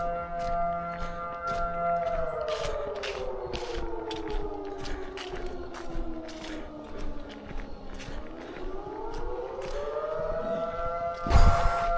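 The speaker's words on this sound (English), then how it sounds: "It's a fire whistle. Siren, fire siren." An outdoor fire siren wails in slow rising and falling sweeps, steady and moderately distant, with scattered footsteps and scuffs close by and a brief loud rustle near the end.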